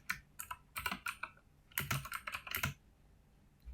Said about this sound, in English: I'm just going to retype this because it's easier that way.